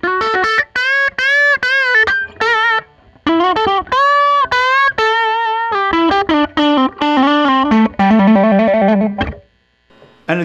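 A Teye electric guitar with its neck and bridge pickups subtracted from each other plays a run of picked notes and short phrases in a thin, hollow, nasal tone, loud and close with brief gaps between notes.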